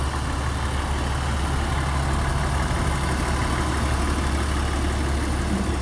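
A 2004 Honda Pilot EX 4x4 idles in a steady, even drone. Its engine hum holds constant and fairly close, with no talking over it.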